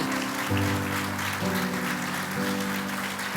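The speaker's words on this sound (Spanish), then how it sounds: "Vamos a dar un aplauso a nuestro Padre Celestial." A church congregation claps together in praise during a sermon, the diffuse applause running continuously beneath loud, sustained worship music with held chords that shift a few times.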